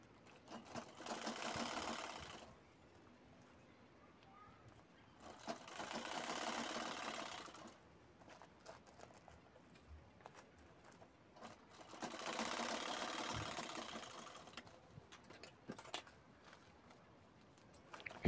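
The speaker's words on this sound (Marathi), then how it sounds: "आता आपल्याला शिलाई करून घ्यायची आहे" A sewing machine stitches a travel bag made from a blouse piece. It runs in three separate bursts of steady whirring, each a few seconds long, with quiet pauses between them and no talking.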